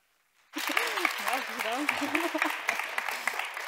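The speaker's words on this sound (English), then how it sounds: "let's give a last and final big warm applause for our 3 jury members, Bert, Thomas, and Lynn" Audience applause for three jury members at a science day event starts suddenly after a brief silence and continues steadily, with cheering voices and some talk mixed into the clapping.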